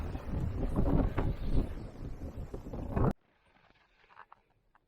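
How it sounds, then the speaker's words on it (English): Strong gusty wind on a beach at Lake Tyers, Victoria, buffets the microphone for about three seconds, then cuts off abruptly, leaving near silence with faint distant noise. "A bit windy, too windy for fishing."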